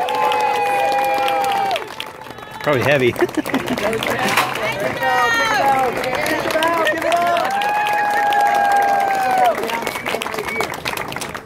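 A street crowd at an outdoor mall applauds and cheers a knife-throwing street performer, a burst of clapping rising after a short lull and holding loud for several seconds, with a voice and crowd chatter mixed in.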